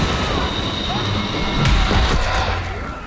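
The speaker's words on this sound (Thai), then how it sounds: "โห ระเบิด นะครับ" An explosion in the video game Evil West bursts out as a sudden broad blast over a dense, continuous wash of game noise, while someone talks.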